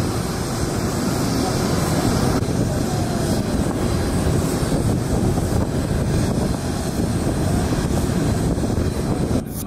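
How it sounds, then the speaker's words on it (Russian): SkyUp Airlines airliner being towed off an airport apron, heard as a steady, loud broadband engine and ground-equipment roar with wind buffeting, constant throughout. "его вытягивают оттуда, вытягивают с перрона, и вот он сейчас развернется и пойдет"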